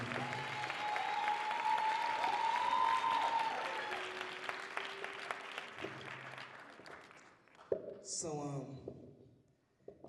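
A crowd at a memorial service applauds and cheers steadily for several seconds, with a sung melody drifting through early on; the clapping thins out toward the end as a voice and scattered claps come through.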